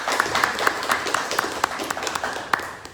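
An audience applauds a guest lecturer, scattered claps beating steadily at close range with sharp individual hits standing out, sustained without a break.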